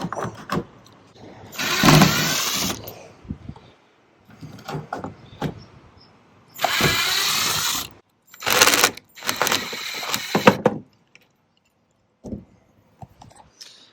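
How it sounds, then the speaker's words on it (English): A power drill runs in several loud bursts of a few seconds each while screws are backed out of a chicken coop roof, with quieter clicks, handling noise and pauses between the bursts. "I'm going to try and back these screws out while I have the camera running"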